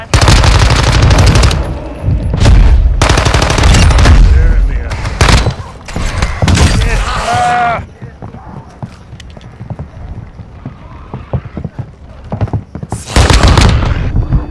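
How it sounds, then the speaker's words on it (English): Call of Duty Modern Warfare 2 Warzone zombie Halloween mode: loud, rapid bursts of in-game gunfire cluster at the start, then comes a quieter lull, then a final burst. "how many shots in the face does it take for a zombie?"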